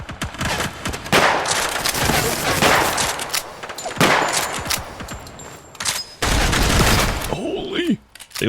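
Heavy, continuous automatic gunfire mixed with booming grenade blasts fills a chaotic video game firefight, loud and close, with sharp bursts, a brief lull and renewed explosions near the end.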